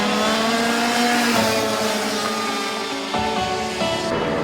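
A race car screams past on a track straight, its loud engine revving with clear gear-change steps and a falling pitch as it goes by, with no talking.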